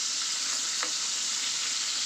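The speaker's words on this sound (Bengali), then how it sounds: "ইলিশ মাছ এক পাশ ভাজা হয়ে গেছে, এখন উল্টিয়ে দেব।" Hilsa fish frying in a pan makes a loud, continuous hiss and sizzle close up, holding steady for about two seconds before cutting off abruptly.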